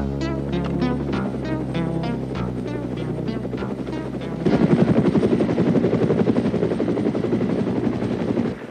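A helicopter's rotor thumps in a rapid, steady chop, then grows louder and denser as it closes in overhead, a heavy continuous roar with no voices.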